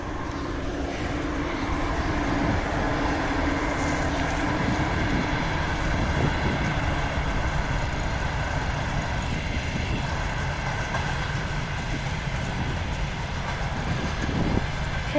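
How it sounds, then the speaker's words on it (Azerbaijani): A train rolls past close by on a railway line, a steady loud rumble and rattle of wagons filling the whole stretch with no one talking. "Qatar keçir buradan. Dəmir yolunu qırağındayıq."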